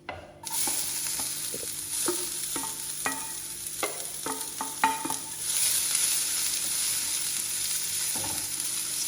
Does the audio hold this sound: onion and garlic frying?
yes